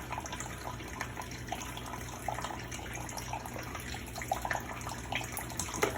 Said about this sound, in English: And then I'm going to add the coconut milk.